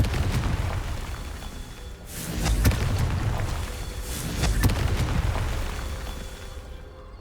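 Confringo fire spell blasts in Hogwarts Legacy, two loud booming explosions with rumbling low-end bursts and crackling tails, spaced about two seconds apart over continuous dense game noise.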